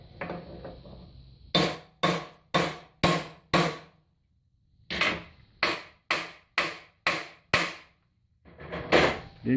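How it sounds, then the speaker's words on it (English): A 16-ounce hammer strikes metal on a lawn tractor trailer build, two runs of sharp, evenly spaced blows, five then six, loud and close, with a brief pause between them. ".16-ounce hammer."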